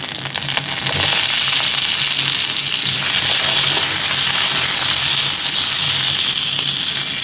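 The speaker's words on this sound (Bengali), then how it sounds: "তারই জন্য দিয়েছি সর্ষে আর শুকনো লঙ্কা" Mustard seeds and dried red chilli sizzle in hot oil in a pan for mango dal, a dense, steady crackling hiss that starts abruptly and holds close and loud.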